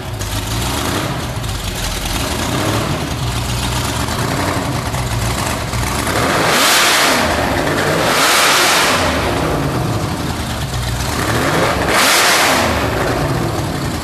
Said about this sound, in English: When he throws those revs, and imagine that's just an open header coming out of the side.